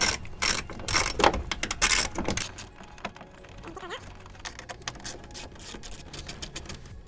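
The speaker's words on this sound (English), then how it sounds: "take off this OEM plastic plate here. And all that is your 8mm socket, 2 8mm screws" A socket ratchet clicks rapidly in bursts while backing out 8mm screws from an OEM plastic plate on a 2009–2018 Ram truck, loud and close at first, then quieter handling noises.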